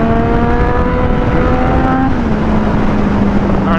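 A Yamaha FZ-09 motorcycle engine revs hard in third gear, loud and close, its pitch climbing steadily and then dropping slightly after a shift, over constant wind roar.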